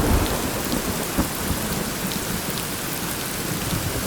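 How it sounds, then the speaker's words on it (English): Steady rain hisses across a video game landscape during a thunderstorm, with faint low rumbles of thunder and scattered drop taps, holding a constant level without speech. "Wow, this storm is unbelievable."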